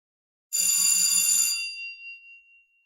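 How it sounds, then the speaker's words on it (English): A bell is rung once with a bright, high metallic ring that holds for about a second and then fades away alone in an otherwise quiet setting. "Why don't you ring the bell?"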